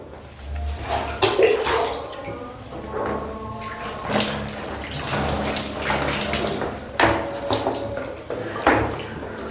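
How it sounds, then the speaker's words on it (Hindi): Water poured repeatedly over the shoulders during a ritual bath splashes and gushes in bursts, with pauses and faint bumps of a vessel between pours. "3 बार दाएं कंधे पर पानी डाला, 3 बार बाएं कंधे पर"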